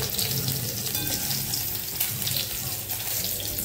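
Paneer cubes fry in oil in a pan, giving a steady, dense sizzle that holds evenly for a few seconds at close range.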